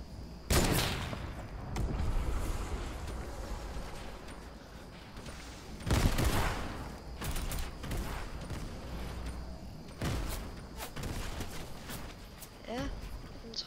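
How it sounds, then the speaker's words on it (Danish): Rapid bursts of gunfire from a video game match, sharp repeated shots clustering around several moments with heavier volleys, over a continuous game soundscape while a player talks throughout. "Vi bliver skudt efter, mens vi fighter ham."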